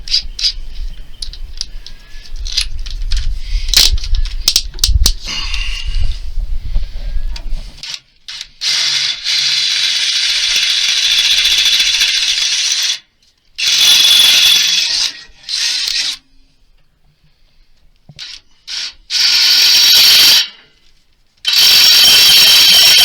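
A power driver fitted with a 5/16 bit runs bolts in while wiring a Kingston, loud bursts of high whining drive with short gaps between, after a stretch of rough handling and clatter.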